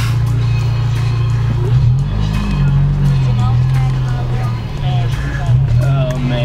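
Honda Civic race car engine idling and blipping at a car meet, a loud low droning hum with rising revs near the start, close by, with people talking over it.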